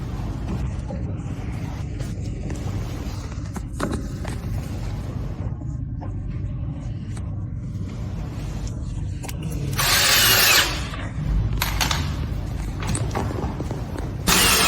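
A power drill drives wooden screws into the ball return channel of a billiard table, with low mechanical rumbling, short bursts of whirring and a louder drill run near the end, close and without talk.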